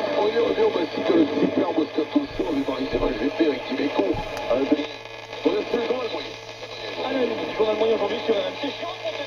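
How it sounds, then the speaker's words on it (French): An old tube car radio in a Panhard Dyna Junior plays continuously at moderate volume, muffled music and voices coming through with a faint steady hum beneath. "On entend la radio."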